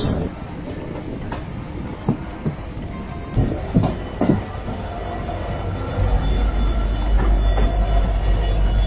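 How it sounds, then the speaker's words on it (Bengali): A Howrah–Titagarh Ispat Express train passing on the rails, a steady rumble of wheels and carriages with clacks and thuds that swells louder toward the end. "হাওড়া টিটাগড় ইস্পাত এক্সপ্রেস সঙ্গে দেখা হয়ে গেল আমাদের"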